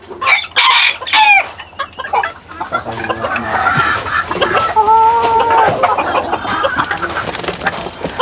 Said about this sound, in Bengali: এবং মুরগিগুলো অনেক অ্যাক্টিভ আছে